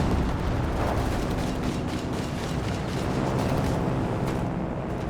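Anti-aircraft flak in Company of Heroes 3 fires steadily at aircraft, a dense, continuous stream of booming shots and rumble that stays loud and unbroken throughout, with no pauses.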